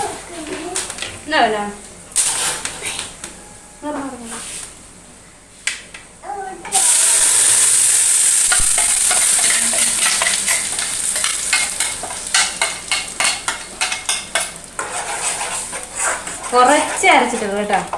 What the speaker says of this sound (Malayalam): കടുക് ഇട്ട് കൊടുക്കുന്നുണ്ടേ.